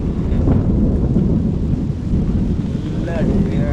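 Low, rolling rumble of thunder during a rainstorm on Munroe Island, under gusty wind buffeting the microphone, a steady heavy roar with a faint voice late on.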